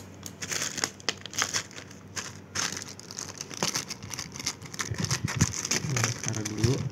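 Plastic or paper packaging crinkles and rustles in bursts while a gift from an online seminar is unboxed, close and fairly steady, with a brief voice near the end.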